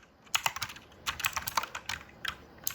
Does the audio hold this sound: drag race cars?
no